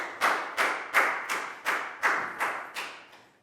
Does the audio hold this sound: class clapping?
yes